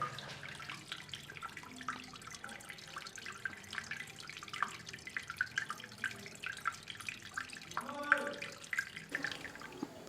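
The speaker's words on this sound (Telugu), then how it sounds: "ఒకసారి వాటర్ సౌండ్ కూడా వినండి మీరైతే" Water flowing without pause in a temple abhishekam at an old Shiva temple on the Musi river bank, a faint continuous trickling and splashing like a running tap, with soft scattered drips and distant background voices.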